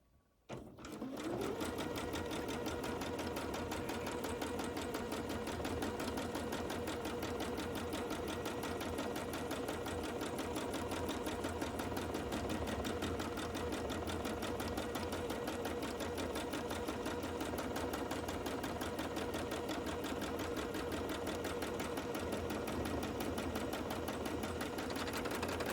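A quilting sewing machine runs steadily and loudly at close range for the whole stretch, stitching with a fast, even hum while its bobbin thread is nearly used up.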